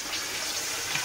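Soy sauce poured into a pan while cooking vegetable rice, a brief steady liquid splash and trickle heard close with nothing else over it.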